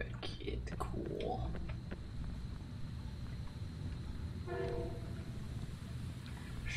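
A train rumbles past in the PC horror game Lunch Lady, a continuous low roar with a horn blast partway through, while a player talks over it.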